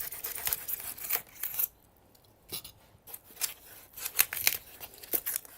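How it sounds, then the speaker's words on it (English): Foam being cut away during a van flooring install, with short scattered tearing and slicing crackles separated by brief pauses, quiet and close. "we need to cut some of the foam away"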